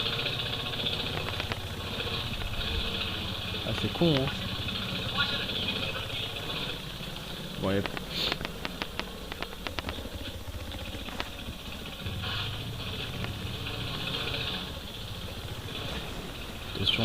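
A motorcycle engine in Battlefield 4 hums and idles steadily through the scene, with scattered clicks and bursts of game noise, while someone speaks briefly in French over it.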